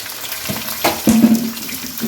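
Chicken pieces and browned sliced onion sizzling in a hot pan, a steady frying hiss broken by a few louder stirring clatters and bursts of spattering, close up with no talking.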